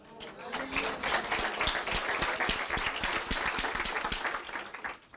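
A church congregation claps and applauds for Jesus, steady dense clapping that rises quickly, holds for several seconds and fades at the end.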